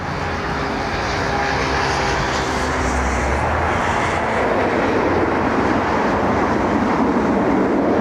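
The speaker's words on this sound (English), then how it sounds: "Watch how quick this thing gets off the runway. Very capable STOL aircraft, short takeoff and landings" A STOL aircraft takes off from a runway at London Heathrow, its engine a loud, steady roar that swells and broadens as it climbs away.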